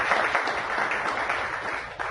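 Steady applause from an audience at an energy healing meetup lecture, a dense wash of clapping at moderate level sustained without a break.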